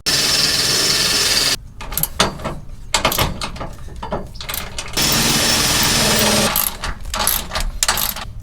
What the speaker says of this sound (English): we're gonna push this bracket up, drill our holes